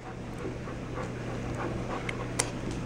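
A dog pants quickly and steadily at close range during a heel and treat training moment, the quiet breathing continuing with a few faint clicks and a small thump.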